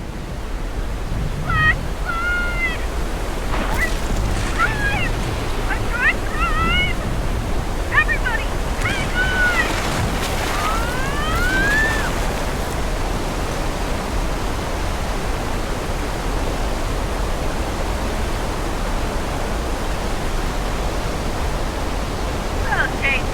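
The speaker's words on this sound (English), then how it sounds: "that little demonstration of how we make rain and floods happen on set" A continuous roar of heavy water from an artificial rain and flood effect on a Universal Studios film set, like pouring rain and rushing flood, with scattered shrill whistles and squeals early on.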